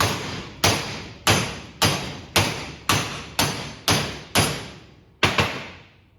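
A hammer tapping sheet metal clamped in a vise, about ten evenly spaced sharp metallic blows with short ringing decays, close and fairly loud.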